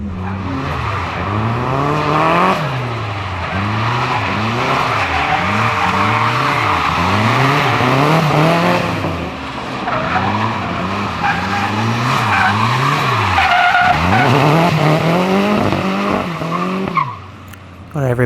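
A turbocharged KA24DE-T Nissan 240SX drifts on a track day, its tires squealing almost continuously over a revving engine that rises and falls in steady waves, loud and close throughout.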